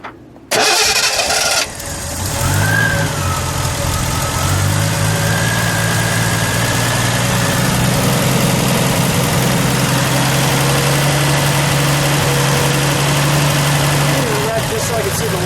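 A 1973 Triumph TR6 cranks briefly and fires, then settles into a steady, loud idle with a low throbbing note, heard close up for the rest of the clip.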